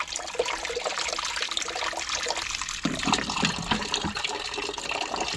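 Water drains from a household water heater tank, a steady close trickling and splashing flow that grows fuller and gurgles partway through, with no voices.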